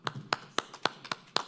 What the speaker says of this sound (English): I'm clapping for it.